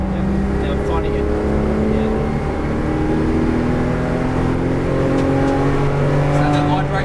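A race car on a track accelerating with throttle reapplied, heard from inside as a loud, continuous engine drone with rising harmonics while a voice talks over it.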